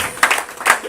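Church congregation clapping and cheering during a Sunday worship celebration service, a short burst of applause with sharp claps rising and falling twice within a second.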